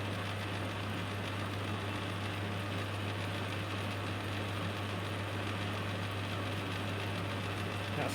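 A metal lathe runs steadily with a constant motor hum and a strong low drone, loud and continuous with no breaks, and no talking over it.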